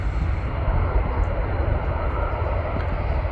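Lufthansa airliner at Manchester Airport, heard from a viewing park as a steady, broad engine roar with a strong low rumble, moderately loud and continuous, with no talking.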